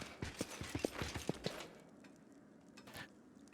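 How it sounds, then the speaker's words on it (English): A horse trots through manor halls in the game Pathfinder: Wrath of the Righteous, about a dozen quick close hoof clops on a hard floor, then near silence apart from a few faint knocks. "We're just going to ride a horse through the halls,"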